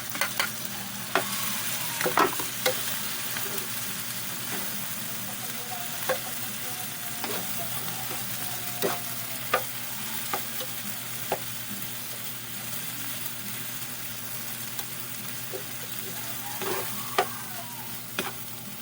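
Food sizzling steadily in a frying pan while a utensil stirs it, with quiet continuous frying hiss and scattered scraping and clinking taps against the pan, no talk.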